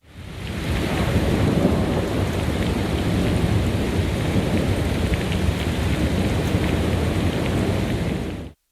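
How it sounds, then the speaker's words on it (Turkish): Heavy nighttime downpour during a thunderstorm in Elazığ, Turkey, dense roaring rain with deep rumbling thunder underneath, loud and constant throughout, no voices. "Tüm Elazığ etkisi altına alan sağanak yağış sırasında çakan şimşekler geceyi gündüze çevirdi."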